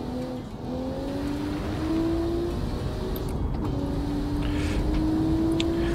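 A car driving at speed and braking hard, its engine note rising steadily then dipping and climbing again, close and continuous with no talk over it.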